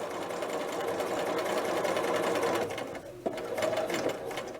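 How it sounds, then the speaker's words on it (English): A sewing machine stitches a collar onto a dress (McCall's 8031), a steady close-up whirring run that briefly pauses and clicks before the stitching picks up again. "I'm just going to keep stitching."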